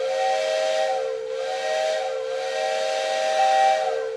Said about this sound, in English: my standard whistle is mounted under the layout table.